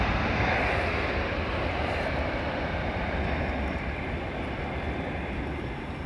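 A VietJet airliner at London Heathrow Airport, a steady, loud jet roar that holds throughout and fades slightly at the end.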